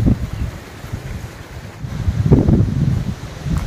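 Strong wind buffets the microphone in deep, rumbling gusts that swell and ease, rising to a louder blast near the end.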